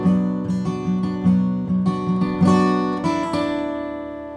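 Acoustic guitar picking a melody, ringing open-string notes and a low E bass accent plucked in an uneven, sustained rhythm, close and clear with no talking.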